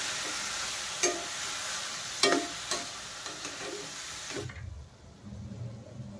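Chopped tomatoes for a quick tomato bhaji are stirred in a hot pan, with a steady sizzle and a few sharp scraping clicks of the spoon before the sizzling drops away.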